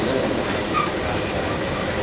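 The City of New Orleans passenger train rolls along the rails with a steady, dense rumble and rattle heard from inside the car, with no talking.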